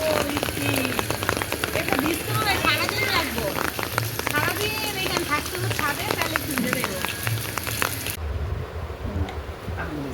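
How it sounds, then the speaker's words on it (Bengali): Light rain patters steadily on a rooftop in a dense crackle of close drops, with people talking under it. The sound cuts off abruptly near the end. "রান্না বান্না শেষ না করতেই হঠাৎ করে বৃষ্টি চলে আসলো।"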